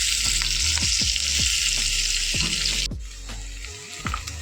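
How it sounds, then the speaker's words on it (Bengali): Mutton sizzles in a kadai while cooking mutton kosha, a loud, close, hissing fry with repeated scraping stir strokes; the sizzle drops noticeably partway through as the stirring continues. "চারিদিকে যেন ভালো মতন ভাজা হয়।"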